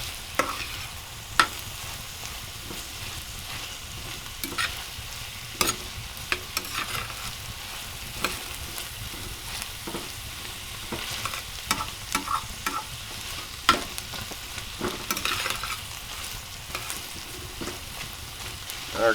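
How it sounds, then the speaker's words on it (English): Onions and peppers frying in a pan while being stirred, a steady close sizzle with frequent scraping and clinking from the utensil, no voices. "our onions and peppers have been cooking up for a minute. Frying a little bit."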